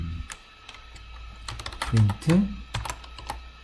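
Computer keyboard keys tapped in short, irregular bursts while a person speaks over them, the clicks close and fairly quiet.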